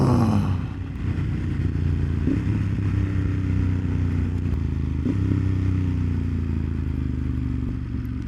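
Ducati Monster 1200S engine on a highway, a loud continuous low drone under wind noise, with a shift and brief rev change near the start.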